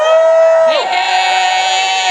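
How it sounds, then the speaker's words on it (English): A live audience at a recorded banter show cheers, whoops and yells together, a loud, close wall of crowd noise with one sustained high whoop sliding down before settling into steady cheering. "I want you to make some noise if you've been to special guests before"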